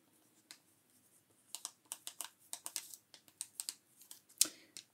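A Sharpie marker squeaks and scratches across a surface in quick, close, quiet strokes that come in a busy flurry of short taps and scrapes.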